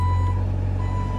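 A bulldozer's reversing alarm beeps nearby in a steady electronic tone with a short gap, over a deep, constant diesel engine rumble at a work site.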